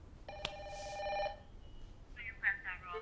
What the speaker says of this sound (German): Das Klärli ist am Telefon. Ein Notfall.